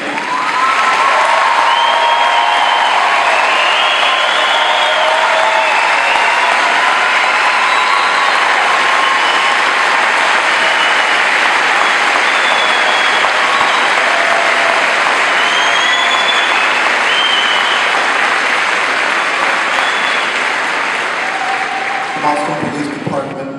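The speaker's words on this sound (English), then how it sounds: "Please stand, all of you, so we can applaud your achievement." A huge crowd at a university graduation applauds and cheers the graduating class, a sustained roaring wall of clapping with whistles and shouts, loud and unbroken, fading slightly at the very end.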